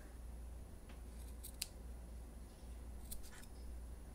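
Scissors trim ribbon for a gift bow, a few quiet crisp snips in two short clusters against a faint steady background hum.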